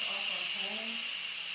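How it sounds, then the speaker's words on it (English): An Instant Pot releasing steam through its valve while tacos cook, a loud, steady, bright hiss that continues unbroken for the whole moment. "you're just going to let the steam out until that little pin"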